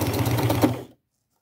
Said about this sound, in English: I will get these all just sewn on with a simple straight stitch